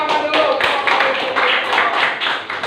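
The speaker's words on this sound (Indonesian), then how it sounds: "kita tepuk tangan dulu" A group in a classroom teaching session claps together, a dense, lively patter of hands that carries on steadily for about three seconds.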